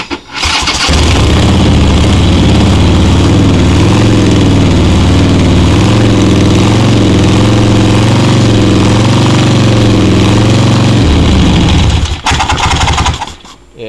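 A Harley-Davidson motorcycle with a blow-by problem starts up and idles loudly at close range on a test run, keeping a steady throbbing rumble for about eleven seconds before it shuts off, with no talking.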